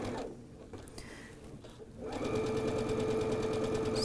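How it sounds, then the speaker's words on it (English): A sewing machine stitches quilt pieces for an hourglass block a quarter inch from a marked line; after a quieter start with light handling, the motor whirs steadily and loudly close up. "I'm going to stitch a 1/4 inch from that all the way across."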